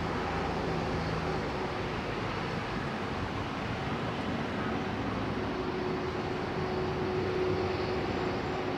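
A Boeing 767-400 airliner on runway 27R at London Heathrow produces a steady, broad engine roar that holds at an even level throughout, with no talk over it.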